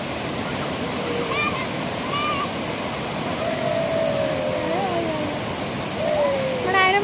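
The Edupayala Durga Mata waterfall roars as a steady, loud rush of falling water, with faint voices and whistling calls rising over it.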